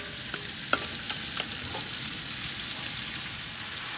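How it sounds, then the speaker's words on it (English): Smoked sausages, ham steak and red onion sear in a pot with a steady low sizzle, broken by a few sharp spoon clinks and scrapes against the pot. "we are searing our smoked steak sausages and our ham steak in this pot with some nice red onion"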